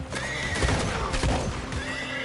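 A video game horse whinnies loudly and shrilly, a single drawn-out neigh with faint hoof clatter beneath it.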